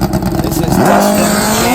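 A nitrous-fed GS drag motorcycle roars loud and close at a drag racing event, its engine climbing in a rising, high-revving wail that settles into a sustained, steady scream.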